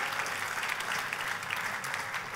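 Sustained applause from a church congregation during a service, a dense steady wash of clapping that stays loud throughout with no voices over it.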